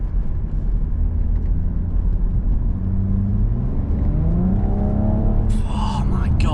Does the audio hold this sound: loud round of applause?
no